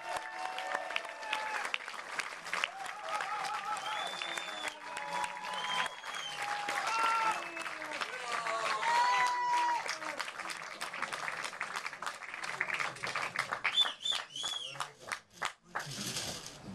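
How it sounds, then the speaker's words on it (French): A French film-night audience applauds as the founders of a gore-cinema site come on stage; soft, continuous clapping runs under voices and microphone talk, fading near the end. "Ça fait bizarre d'être applaudi comme ça."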